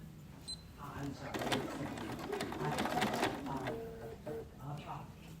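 A sewing machine stitches down a minky quilt-as-you-go quilt, its motor whirring steadily at close range for several seconds, building and easing, while someone talks over it.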